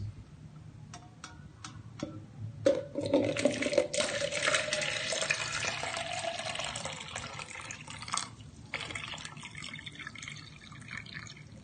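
Water pours from a kitchen tap into a container being filled to one liter, a steady broad rush building after a few sharp taps and drips, continuing close and moderately loud with no talk.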